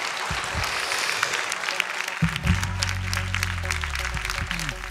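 Studio audience applause at Armenian X Factor, steady dense clapping throughout with a few louder claps and sustained tones beneath, no talk over it.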